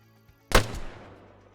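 A single sharp gunshot rings out in a military shooter game, loud and close, with a short echoing tail that fades over about a second, after near silence.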